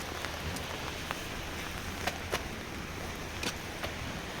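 Heavy winter rain pours steadily onto the streets of Medjugorje, a dense even hiss with scattered sharper drop splashes standing out, close and constant with no talking.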